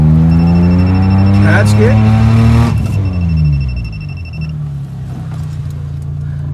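Maruti 800 car climbing in first gear over a speed breaker, its small engine whining and straining loudly before easing off as the car rolls over the bump, with someone talking.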